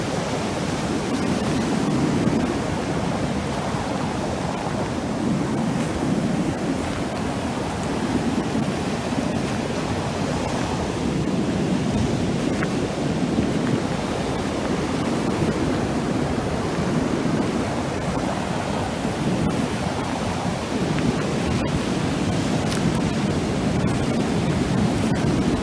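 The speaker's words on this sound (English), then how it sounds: "the waves haven't come up here yet" Ocean waves wash steadily onto a beach on a rainy day, a dense, continuous roar of surf with rain and wind hiss and no voices.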